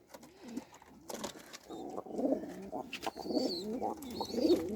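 Pigeons coo close by in a rural coop, a run of soft throaty warbling calls that overlap and build in loudness, with a few faint higher chirps behind them and no talking.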